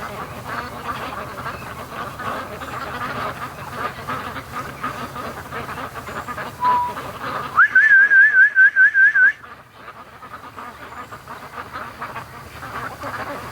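A flock of raised ducks coming home through a swamp creek keeps up a low, far-off chatter. Partway through, a person cuts in with a loud, rapid warbling whistle for a couple of seconds, calling them in.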